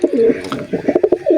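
A pigeon coos close by in a home pet loft, a run of soft throaty low coos repeating in short pulses, some overlapping, with no talk over it.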